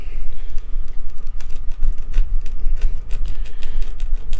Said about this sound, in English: You can see the old plastic or silicone scraping off there.